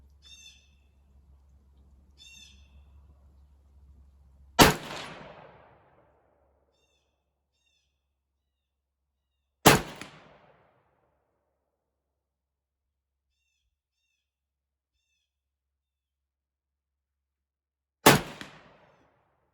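Three sharp 300 Blackout rifle shots, loaded with Hornady 110-grain V-Max handloads, crack out several seconds apart at steel targets. Each loud report is followed by a brief decaying echo over an otherwise quiet outdoor range.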